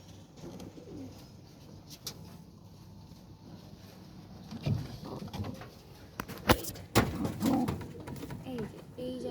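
Pigeons coo softly in a loft with nesting boxes, low murmuring calls drifting in the background, followed by rustling, fluttering and a few sharp knocks and bumps nearby.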